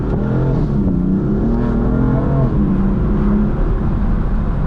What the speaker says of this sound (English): do you hear my turbos right now?